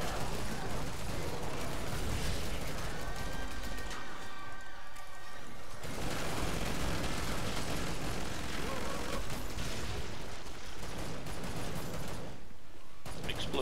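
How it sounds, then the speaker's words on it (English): Explosions and gunfire fill a Killing Floor 2 match: dense bursts of shots and booming blasts continue throughout, with a brief lull partway and a deeper rumble of impacts. "Explosions everywhere."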